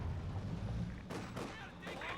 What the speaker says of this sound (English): Mortar on the Guardsmen, there we go.